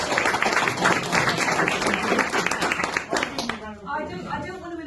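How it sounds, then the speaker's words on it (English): An audience at a tribute event breaks into dense, sustained clapping for about three and a half seconds, then it thins out as a voice takes over. "Round of applause"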